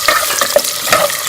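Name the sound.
onions frying and being stirred in a pan for haleem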